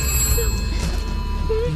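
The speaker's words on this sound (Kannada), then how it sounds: "ಫೋನ್ ಎತ್ಕೊಳ್ಳೆ." A telephone bell rings close and loud in a Kannada film scene, with two tonal chimes over a low background hum and murmur.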